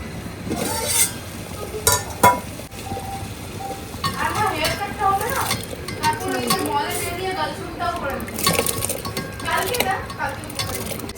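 Rice and lentils go into a cooking pot in a home kitchen, giving scattered clinks, scrapes and rattling clatter of utensils and metal, with a person talking over the sounds throughout.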